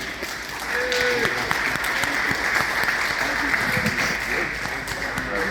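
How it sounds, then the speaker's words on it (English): A room full of people applauding, steady clapping that swells after a moment and continues evenly throughout. "if I can get a big round of applause for Mac right now"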